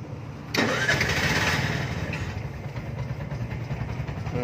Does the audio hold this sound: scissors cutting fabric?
no